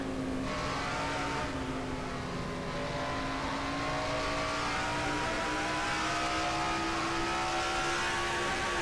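From inside a stock race car, an engine holds a steady, high-revving drone at speed, with a rising whine beneath constant loud road and wind roar.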